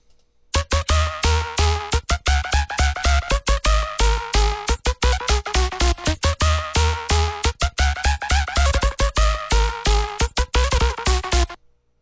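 Synthesized polybass with volume enveloping and post-processing plays as a loud, dense run of rapid pulsing chord stabs with deep sustained bass underneath, choppy and rhythmic for about eleven seconds, no voices.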